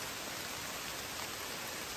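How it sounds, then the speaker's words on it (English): Rain falls on the Appalachian Trail as an even, faint, continuous hiss with no distinct drops or voices, steady for the whole stretch. "It's still raining."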